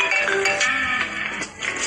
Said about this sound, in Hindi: कॉल काटने ही वाली थी कि मनु ने फोन उठा लिया।